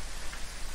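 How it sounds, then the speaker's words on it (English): Steady rain in the video game Phasmophobia forms a soft, even hiss of falling drops, constant and moderately faint, with no other sounds over it. "It's raining."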